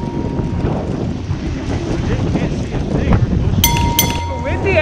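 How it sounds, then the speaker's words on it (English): Wind buffets a microphone outdoors on a trail, a constant low rumbling roar filling the whole stretch, with a short high whistling tone near the end and voices mixed in. "It's windy out here today."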